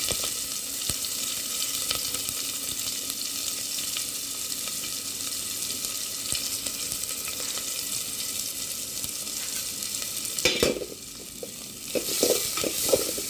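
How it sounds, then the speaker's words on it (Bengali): Chopped onions and green chilies fry in a pan with a steady, loud sizzle, and spoon scrapes and clatters join in near the end. "এগুলোকে ভাজতে থাকবো একটু লাল লাল হওয়া পর্যন্ত।"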